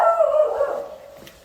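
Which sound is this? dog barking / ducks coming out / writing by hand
dog barking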